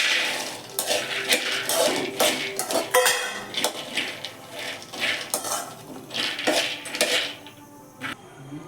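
Peanuts and chickpeas dry-roasting on a low flame as a spoon stirs them around a pan, giving a steady run of scraping, rattling and clinking strokes with no talk.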